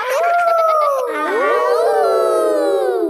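Cartoon children's voices imitate a wolf howl, several overlapping rising and falling howls sung together loudly and continuously, with no other sound.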